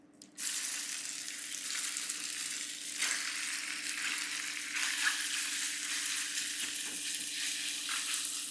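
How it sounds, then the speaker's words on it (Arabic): Chicken pieces fry in oil in a pan with a steady, dense sizzle and crackle that holds at an even level throughout, close by and without any talking. "واحنا بنحمر الفراخ كده"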